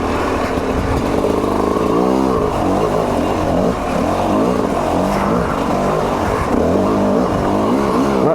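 An Italian-made, fuel- and oil-injected TM EN 300 dirt bike ridden on slick wet ground, its two-stroke engine loud and close throughout, revving up and down continuously with rapid throttle changes and clattering bursts.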